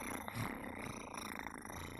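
A livestreamer imitating a cat's purr with her own voice, a quiet, close, continuous rumbling purr with a steady rhythm.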